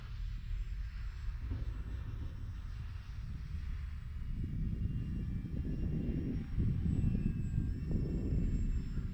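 An Avios BushMule RC model airplane flies overhead, its engine giving a steady droning hum that rises into a louder rumbling passage midway, heard outdoors with wind-like noise.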